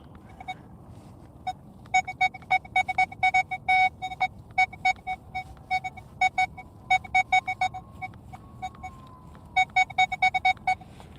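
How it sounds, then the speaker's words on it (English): A metal detector sweeping ground with deep buried targets, giving repeated short electronic beeps in irregular bursts over a faint low background hum. "These are all deep targets that I'm getting a little bit of a beep on."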